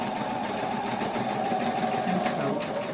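A sewing machine stitches a shoulder bag, running steadily at close range with a continuous whirring hum and a fast mechanical patter throughout.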